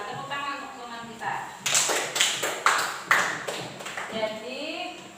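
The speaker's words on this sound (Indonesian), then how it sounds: "tepuk tangan untuk teman kita" A fourth-grade class applauds a classmate, a short burst of several loud, sharp hand claps in a quick irregular run. Voices talk quietly before and after it.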